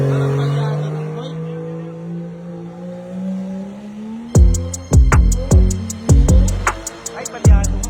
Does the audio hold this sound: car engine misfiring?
yes